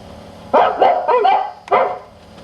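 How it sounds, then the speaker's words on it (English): Three dogs barking in short bursts, fairly close and clear rather than distant, with no talking. "And in a distance, you could hear dogs barking because it was so cold."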